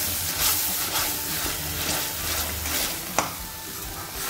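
Amla (Indian gooseberry) juice sizzling and frying in a pan while being stirred, a continuous close hiss with scraping strokes and a sharp clink near the end.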